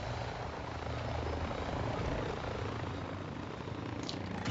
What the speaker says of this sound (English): let's watch this helicopter fly through the ball